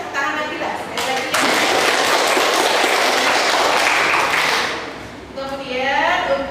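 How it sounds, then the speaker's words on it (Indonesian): Students in a classroom clapping together, first with scattered claps, then swelling into full, dense applause that fades after a few seconds, framed by a voice speaking before and after. "kita kasih tepuk tangan lagi lah sekali lagi"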